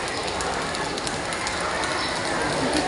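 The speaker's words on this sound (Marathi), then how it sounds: "मला जायचं आहे थोडासा पाऊस कमी होण्याची वाट बघते" Heavy rain falls in a steady, dense hiss close by, with an even loudness and no pause from start to finish.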